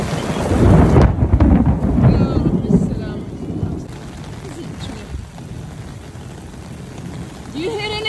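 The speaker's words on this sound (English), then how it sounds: "I told you it's raining." Heavy rain pours down during a thunderstorm while a loud roll of thunder rumbles at the start and then fades, leaving steady rainfall and faint patter.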